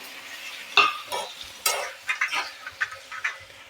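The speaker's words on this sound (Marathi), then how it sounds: "आलं लसूणची पेस्ट छान अशी थोडीशी परतवून घ्यायची आता यामध्ये घालायचे आहेत आपल्याला हे सर्व टोमॅटोचे केलेले तुकडे" Ginger-garlic paste and chopped tomato pieces sautéed in a pan for a rustic tomato soup, with a spoon stirring and scraping in uneven bursts over a light sizzle, close and fairly loud.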